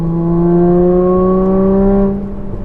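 A Porsche 981 Cayman flat-six fitted with a Soul Performance exhaust drones loudly and steadily from close by, its pitch climbing smoothly over about two seconds before the revs ease off.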